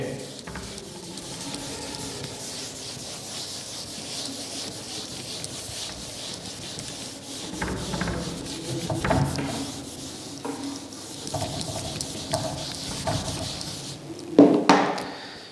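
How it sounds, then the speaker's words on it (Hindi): Writing being rubbed out on a classroom board, a quiet, uneven scrubbing and rasping that swells in a few louder strokes near the end. "तो पहले मैं इसको मिटा दे रहा हूं, रब कर दे रहा हूं इसको"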